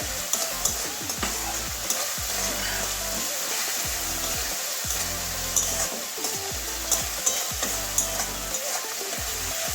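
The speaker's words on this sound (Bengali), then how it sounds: "এবারে ছোট্ট থেকে একটা টমেটো দিয়ে দিচ্ছি" Spiced masala paste with tomato is fried and stirred in a pan for a katla fish head and Malabar spinach curry: a steady close sizzle broken by repeated scraping spatula strokes in an uneven rhythm.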